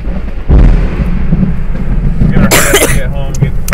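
Close thunder from nearby lightning breaks into a loud, low, sustained rumble during a storm, with people talking and exclaiming over it.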